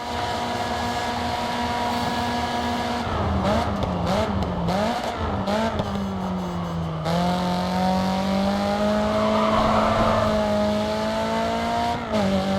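Race car engine in the Grid 2 racing game, a loud continuous drone with wavering pitch that rises and falls through gear changes and revs, heard alone without talk.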